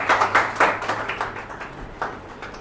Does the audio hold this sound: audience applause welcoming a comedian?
yes